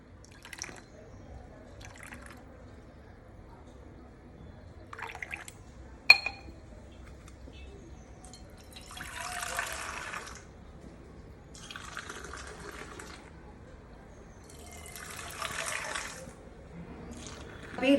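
Filtered coffee decoction is poured into milk to make palm jaggery (karupatti) coffee, with a few soft, splashy pouring bursts separated by quiet pauses and faint background clatter.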